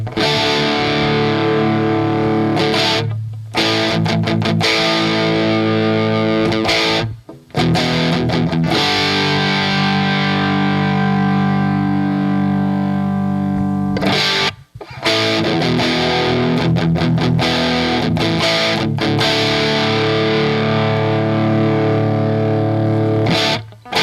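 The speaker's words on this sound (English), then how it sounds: "just say I just want nothing but reverb." Electric guitar runs through a cheap Temu effects pedal set for reverb with extra gain, giving sustained distorted chords that ring out loudly with brief silent gaps between phrases.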